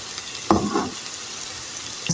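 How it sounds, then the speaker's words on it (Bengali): Crispy semolina pitha snacks deep-fry in hot oil with a steady, close hiss and one brief stirring scrape, no voices over it. "আমার পিঠেগুলি প্রায় ভাজা হয়ে গেছে, আমি একটু পরে নামিয়ে নেব"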